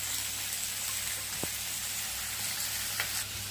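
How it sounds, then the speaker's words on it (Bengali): Sliced onions frying in hot oil for chicken biryani beresta, a steady close sizzle throughout with a couple of soft stirring knocks. "এই যে দেখো পেঁয়াজ বেরেস্তা হচ্ছে, পেঁয়াজটা ফ্রাই হবে এখন বেরেস্তার জন্য"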